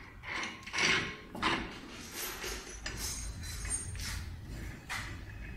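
A paper roll is loaded into an oblique paper stick machine, giving a run of nearby metallic clunks, clinks and sliding knocks in an irregular rhythm, with no voices.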